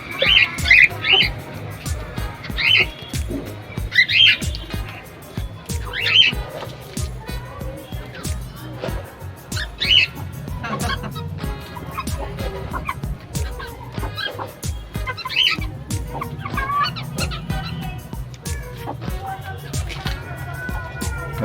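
A hen with chronic respiratory disease squawks loudly and repeatedly in sharp bursts, with softer clucking in between, over a busy outdoor background with other birds calling.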